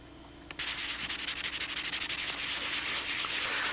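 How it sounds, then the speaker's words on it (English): Sandpaper scrubs over a painted Spitfire scale model in quick rhythmic back-and-forth strokes, close and steady for several seconds after a brief quiet start, with no voices. "If you're having trouble sanding this and you're not seeing that powder come off"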